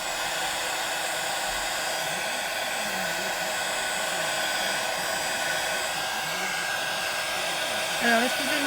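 Hair dryer on a gentle setting drying wet red paint on a mixed-media art piece, a steady close whooshing hum that holds for the whole stretch with a slight wavering tone.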